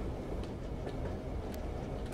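A train rumbles along steadily in the Zompiercer zombie survival game, a dense low rolling noise with faint ticking clacks, continuous and fairly loud.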